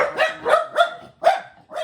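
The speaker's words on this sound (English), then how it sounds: "he likes to ring the bell to let us know that he did that, but it drives the dogs into a little bit of a frenzy" Several dogs bark excitedly at a doorbell, five sharp loud barks in quick uneven succession, close by with no talking.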